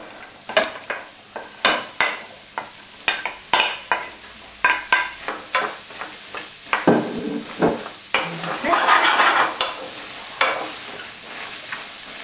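Vegetables are added to a frying pan over pork chops for Indian-style cooking, with repeated sharp clacks and scrapes of a utensil against the pan over a soft sizzle, close and rhythmic, without talking.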